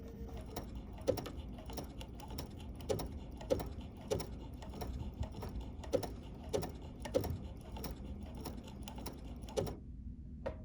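A Bernina 880 Plus sewing machine stitches a bling bracelet, running in quick rhythmic mechanical taps and whirs close by, then stopping abruptly near the end; no one speaks.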